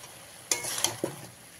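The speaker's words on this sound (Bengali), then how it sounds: "দিয়ে অল্প কিছু সময় ভেজে নেব।" Chicken fries in a pan with papaya and carrot, a soft sizzle broken by a few sharp scrapes and clinks as the pieces get stirred, all close and quiet.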